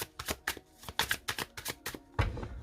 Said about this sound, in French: Mélange un petit peu.